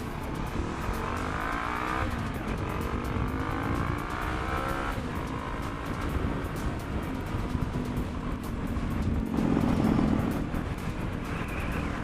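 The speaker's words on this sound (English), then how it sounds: "let's see how this new M4 exhaust sounds" A Honda CB500F motorcycle with a new M4 aftermarket exhaust is being ridden, its engine droning and rising through revs in a continuous close loud note with wind noise, pitch climbing and shifting between gears.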